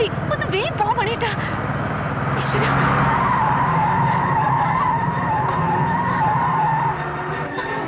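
Tires screech and skid in a loud, sustained squeal as a speeding car races through a chase, an engine roaring underneath while people shout over the noise.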